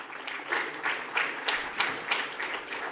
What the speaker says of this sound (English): Join me in welcoming them with a nice big round of applause.